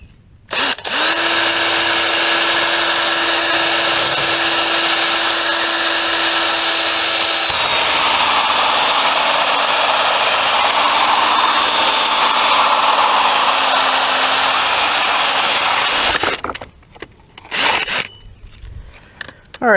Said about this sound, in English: I was able to find myself a little inch and a half hole saw, which looks to be about the right size